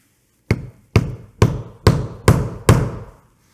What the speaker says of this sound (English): And then we're going to use our line 24 snap setter here.